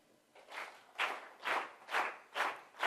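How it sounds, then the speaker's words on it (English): An audience at a DMAi presentation clapping together in unison, six evenly spaced group claps in a steady rhythm, moderately loud and close, with no talking. "Now clap again in unison."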